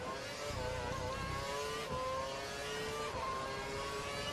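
Simulated F1 2012 race car engine screaming at full revs in a video game at the Indian Grand Prix, a high sustained whine with gear-change steps, steady and fairly loud.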